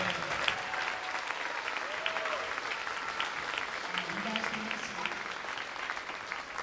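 Students from a school spring concert receive sustained audience applause, a dense, moderately quiet crowd clapping that continues evenly throughout, with faint voices and cheers faintly audible beneath.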